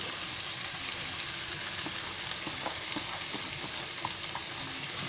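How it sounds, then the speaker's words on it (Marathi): Raw rice stirred in hot oil in a pan for moong dal khichdi gives a steady close frying hiss, with soft scraping and stirring taps on top. "तेलामध्ये चांगले असे परतून घ्यायचे"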